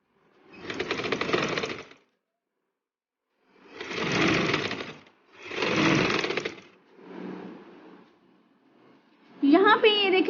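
A sewing machine stitches lace onto a dress in separate bursts of steady mechanical whirring, each lasting about a second or two, with silent gaps between them and a voice speaking at the very end.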